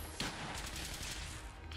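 Continuous gunfire in Fallout 4, modded gameplay, a dense steady stream of shots with one sharper report near the start, loud and close, with no voices.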